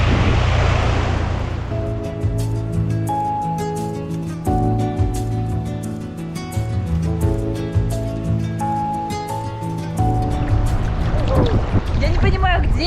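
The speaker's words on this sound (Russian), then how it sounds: "из-за того, что ветер, сегодня здесь волны" Wind-driven ocean waves wash onto a beach on Boracay in the Philippines, a steady surf rumble running through the whole stretch under close, continuous talking and some gusty noise.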